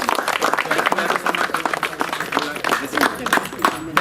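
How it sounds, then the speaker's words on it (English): Scattered hand clapping from an audience at a public meeting over irregular water supply, a short, uneven burst of claps with voices mixed in. "You don't have to clap."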